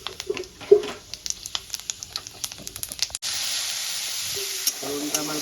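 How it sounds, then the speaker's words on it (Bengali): Dried red chili and panch phoron spices frying in hot oil in a home kitchen: quiet clicks and taps at first, then a sudden steady sizzle that holds to the end, with a faint short tone near the end. "ফোড়নটা একটু ভেজে নেব।"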